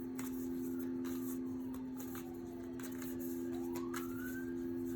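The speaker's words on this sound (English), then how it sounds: "let's let that siren go by" An emergency vehicle siren passes at a distance, its wailing tone rising and falling faintly over a steady, loud background hum.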